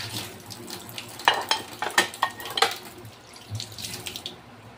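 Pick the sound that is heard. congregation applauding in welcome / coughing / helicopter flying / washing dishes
washing dishes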